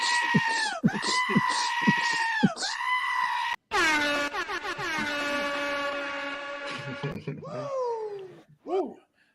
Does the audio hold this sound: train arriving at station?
no